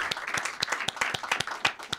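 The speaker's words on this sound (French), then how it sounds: "vous pouvez déjà les applaudir" Audience applauding a band being welcomed on stage, a brief burst of sharp individual claps from a modest crowd, fairly close and uneven in rhythm.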